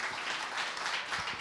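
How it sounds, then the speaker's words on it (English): Applause from an audience at a tech community meetup, a steady, even patter of many hands clapping at moderate level for a short stretch, with no voices over it. "If you want to give him a round of applause,"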